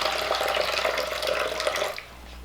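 Fresh water splashes steadily into a snake's enclosure dish for about two seconds, close and fairly loud, then cuts off abruptly, leaving a low background hum.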